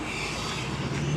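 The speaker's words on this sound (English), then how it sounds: "I wanted to wait till there was a very loud freaking truck to interrupt my outro." A loud truck passes on a nearby road at an outdoor fan festival, a steady, broad roar filling the whole moment with no talk over it.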